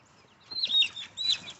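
Chickens scratching through a garden let out a few soft clucks and a short squawk in two brief bursts, fairly close and quiet, with no talking.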